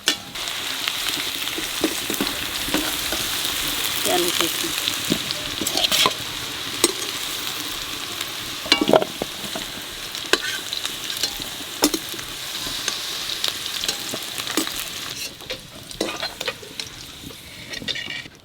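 Potatoes sizzling as they fry in a pan, a steady crackle broken by occasional sharp clicks and scrapes of stirring, close and fairly loud.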